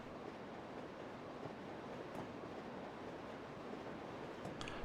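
Freight train of grain cars rolling along a BNSF line in the Train Simulator 2020 game, a steady broad rumble with faint rail noise throughout, a couple of faint clicks and a sharper knock near the end, no voices.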